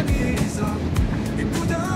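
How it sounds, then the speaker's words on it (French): A sailboat's engine runs at reduced revs as a low, steady rumble, mixed with wind buffeting and water noise on open water. "Je réduis les tours moteur"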